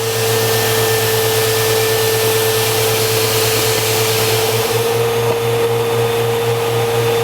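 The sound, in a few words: IMPACTS S210E-40R shot blaster running with shot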